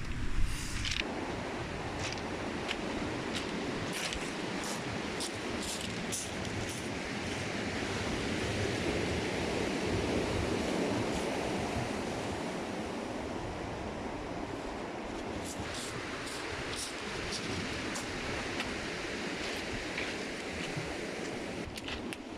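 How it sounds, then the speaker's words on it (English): Sea surf breaks on an Isle of Wight shore in a steady, loud roar, with a constant wash of waves and brief clicks and knocks on top, and no voices. "it's just to get over the surf, the noise of the surf"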